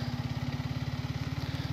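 Motorcycle engine running at a steady, even throb with a regular pulsing rhythm while being ridden along a rural road near Guwahati, close and fairly loud with no talking.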